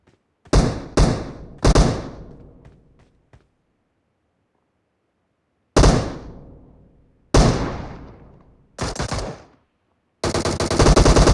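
M7 rifle fire in a shooting video game: several sharp, loud bursts and single shots separated by silences, ending in a sustained rapid burst.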